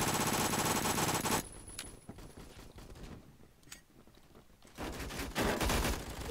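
A suppressed MP7 submachine gun fires in Roblox Phantom Forces: a dense, loud burst of rapid shots at the start, a quieter stretch of scattered shots, then another sustained volley near the end.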